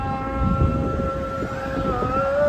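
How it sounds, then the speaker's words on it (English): A wavering, melodic call to prayer from a mosque drifts from a distance, its long sustained tones sliding up and down over steady street and crowd noise near the beach at Batu Ferringhi, Penang, Malaysia. "You can hear the prayer calls."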